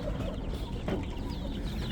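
Two-week-old chicks of native Korean chickens peep and cluck softly at close range, with the brief calls of several birds overlapping against a busy coop background.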